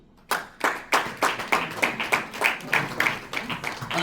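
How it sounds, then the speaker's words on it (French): A ceremony audience at the installation of a USN Benelux subsection in Luxembourg applauds, giving a steady run of sharp, evenly spaced claps that starts abruptly and holds at a moderate level. "On applaudit très fort quand même."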